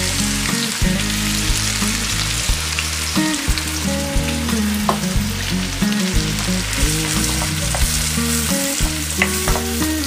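Onion frying in oil for a black urad dal curry, a loud, close, continuous sizzle with steady stirring and scraping in the pan and no talking.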